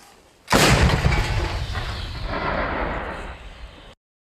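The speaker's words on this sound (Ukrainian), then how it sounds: "Гармата!" A single loud, close artillery cannon blast near Vovchansk booms out and rolls into a long rumbling echo that slowly fades over a few seconds.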